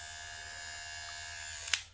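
A Geemy GM 6008 hair clipper running with its lever up, a steady close electric buzz with a faster hum, ending in a short sharp click.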